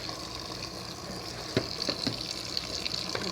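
Tap water runs steadily while a container that held marinated chicken is washed in a kitchen sink, a soft, continuous splashing with a few light knocks.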